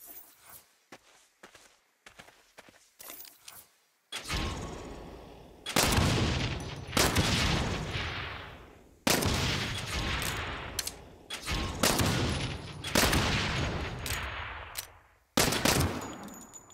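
Bursts of gunfire from weapons in the Saints Row video game, with quick single shots early on, then heavy, loud volleys and sustained automatic fire that stop and start in waves.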